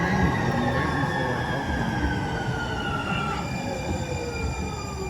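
A Metro Transit train arrives with a steady loud rumble, its wheels squealing in high drawn-out tones that slowly fall in pitch, continuous throughout with no voices.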